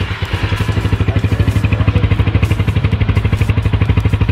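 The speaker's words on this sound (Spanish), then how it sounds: "vamos a escuchar qué tal se escucha el escape" An Italika 250Z motorcycle idles through its large exhaust, a loud, close, steady low-pitched putter of rapid even pulses that continues throughout with no voices.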